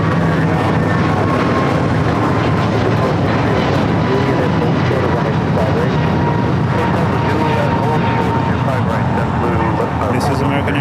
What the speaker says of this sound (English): This is American Airlines 143 going to Honolulu. 5-year-old A321neo.